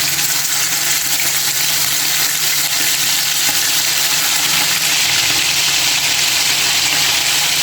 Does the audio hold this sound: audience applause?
no